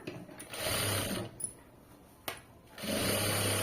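A home sewing machine stitches a garment in two bursts of steady, close whirring. A quiet pause with a couple of sharp clicks separates the runs.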